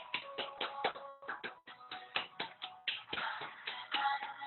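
Rapid rounds of hand claps during a kundalini yoga exercise, sharp repeated slaps in an uneven rhythm that bunch into faster bursts, close and fairly quiet with no talking.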